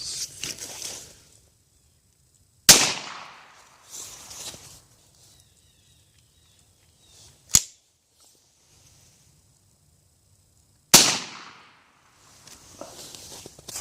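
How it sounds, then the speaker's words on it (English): A shotgun fires rounds into a log outdoors: sharp, loud reports crack out alone, separated by long quiet gaps with faint rustling and movement in between. "I'm going to try to put 2 rounds through this log"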